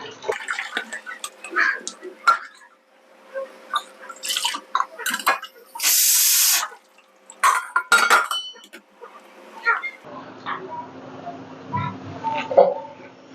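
Water splashes out in a short, loud gush among clinks of a pot and dishes and a few drips, close by, with faint voices in the background.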